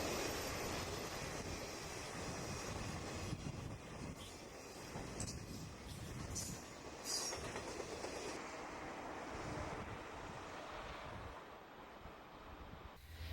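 D&H 556, a southbound freight train, rolls past the Inglenook Road crossing near CP South Ferry on the Buffalo Line in a steady, continuous rumble and wheel clatter, heard at moderate distance with no horn.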